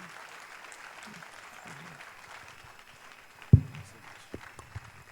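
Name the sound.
applause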